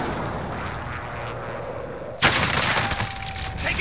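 Call of Duty gunfire erupts abruptly after a quieter stretch of ambient battle noise, a loud sustained burst of rapid shots and impacts that stays dense to the end.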